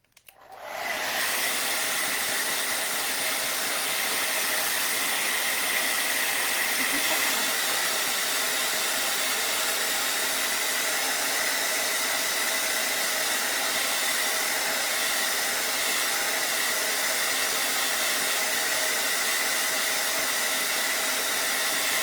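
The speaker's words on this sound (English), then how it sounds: "So sorry again if I blast you out with the hair dryer." A hair dryer blasts continuously at close range, drying acrylic paint on a canvas kite painting, with a loud, steady roaring hiss that starts abruptly and holds unchanged for over twenty seconds.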